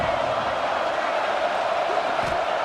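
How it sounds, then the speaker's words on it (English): A stadium crowd roars with cheering in the video game EA Sports College Football 26, backing Texas Tech on a third down; the dense, loud wash of noise holds steady throughout with no clear single voices. "The crowd electric, trying to help Tech on this third down."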